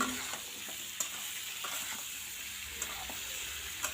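Curry with coriander powder is stirred as it fries in a pan, a continuous soft sizzle broken by occasional sharp clicks of a spoon against the metal, with nobody talking.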